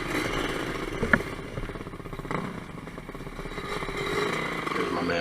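A Suzuki DRZ dirt bike rides off-road, its mid-pitched engine chugging and revving unevenly nearby with clattery knocks from the rough ground.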